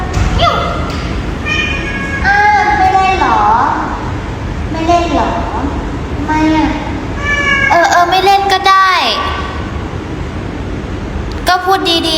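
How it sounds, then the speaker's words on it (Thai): A cat meows several times in a small home setting during a casual livestream, its rising and falling cries repeating close by amid people talking and occasional thuds. "แมว"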